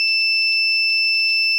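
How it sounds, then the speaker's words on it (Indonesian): Buzzer on an automatic rat trap, set off by its PIR motion sensor, sounds a steady, piercing high electronic tone that holds loud and unbroken from start to finish. "buzzer akan menyala yang menandakan penyengat menyala"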